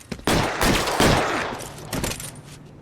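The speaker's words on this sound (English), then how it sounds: "Shots fired. 391 Broadway, Mallory's Cafe." A loud burst of gunfire erupts during a shootout at Mallory's Cafe on Broadway in L.A. Noire, rapid close shots clustered in the first second and a half, then further scattered cracks that fade off.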